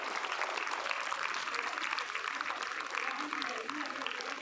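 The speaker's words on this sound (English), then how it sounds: "Give a big round of applause to Srimati Palaniammal." A school audience at an Independence Day celebration applauds a guest of honour arriving, producing dense, steady clapping from a large crowd throughout, with faint voices mixed in.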